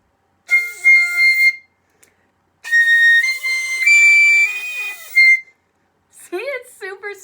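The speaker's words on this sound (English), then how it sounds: "the piccolo is super tiny, and so it makes super high-pitched sounds" A piccolo plays a few short, very high-pitched phrases with gaps of silence between them, bright and close, with some quick bending notes toward the end.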